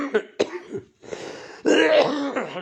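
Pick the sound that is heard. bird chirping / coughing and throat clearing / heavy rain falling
coughing and throat clearing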